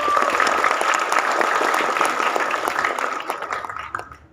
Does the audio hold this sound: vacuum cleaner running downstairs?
no